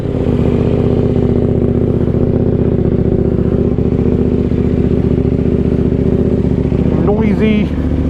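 A 2020 KTM Duke 890R idles close by with a rowdy, throbbing, loud engine note that stays steady throughout, with a brief voice near the end.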